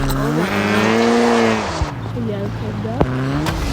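A car driving off-road in a video game on ultra graphics settings, engine tone rising and falling with tire squeal, heard close and steady with a sharp knock partway.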